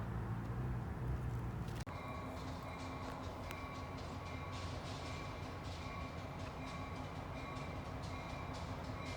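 A train rumbles steadily near a railroad crossing, a faint continuous rolling drone with a sharp click early on and light high clatter throughout, no voices.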